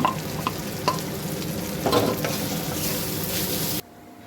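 Potato filling for kachuri, with asafoetida, cumin, ginger, turmeric and chili powder, fries and sizzles in a pan while a utensil stirs it with repeated scraping strokes, close and steady, before cutting off abruptly near the end.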